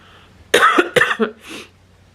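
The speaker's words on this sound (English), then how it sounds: "I don't know what this cough is" A few harsh, wet coughs close by, one strong burst followed by two or three weaker hacking coughs, then quiet.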